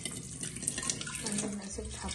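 Tap water runs steadily into a kitchen sink while lemon-flavoured food is being prepared, a continuous splashing wash at moderate level with faint dripping, and quiet speech mixed in.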